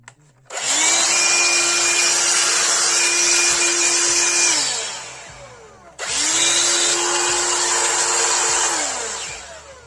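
A loud Bosch vacuum cleaner motor blowing air runs with a steady airy roar and whine, cuts off briefly near the middle, then spins back up and continues.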